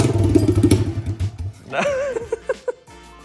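A 2020 Honda CRF 110 dirt bike with a new aftermarket exhaust pipe and no silencer runs nearby, first a loud throbbing idle, then a rising rev and several sharp throttle blips.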